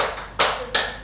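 Rhythmic hand clapping of the 'tepuk semangat' cheer led by a teacher in a classroom, with two sharp loud claps standing out over a softer patter of tapping hands, close and with no talk.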